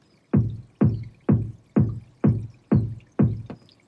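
Sub kick drum sample from a Vengeance pack for a hip hop or EDM track, struck seven times at an even pace, each a deep booming thump with a smooth decaying tail, alone and upfront.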